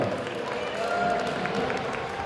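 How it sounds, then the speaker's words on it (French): Audience applause at a solo cosplay contest, a brief burst of clapping from a crowd heard at moderate distance, fairly soft and steady throughout. "Applaudissements."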